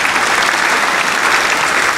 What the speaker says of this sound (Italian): Applauso ad Elkan che ci sta rovinando.